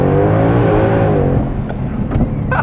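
A car accelerates hard on a downhill pull, a loud engine drone with rising harmonics for about a second and a half before easing into steadier rumble with a few brief clicks.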